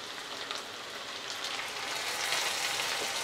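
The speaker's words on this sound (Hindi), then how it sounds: "प्याज के पेस्ट डालने के बाद हम 3 से 4 मिनट और भूनेंगे" Onion paste frying in a pan, a steady hissing sizzle that stays close and even throughout, gently building in loudness toward the end with no voices.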